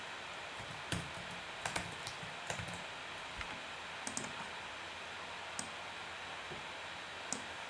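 Computer mouse clicks while plotting functions on a graph, a scattered series of faint, sharp ticks at irregular intervals over a quiet background hiss, with no talking.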